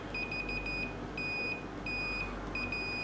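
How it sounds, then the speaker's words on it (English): A Fluke 117 multimeter's continuity buzzer sounds in a series of clean, high electronic beeps, some short and some held longer, with brief gaps between, clear and close against a quiet background. "the first thing we're going to have a look at is the buzzer"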